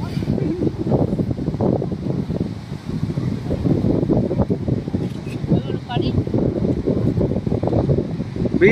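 Sea wind at Thiruvanmiyur beach in Chennai buffets the microphone in a loud, continuous roar under rainy-looking skies, while people talk throughout.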